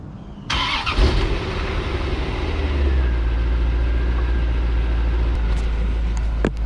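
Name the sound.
car engine cold start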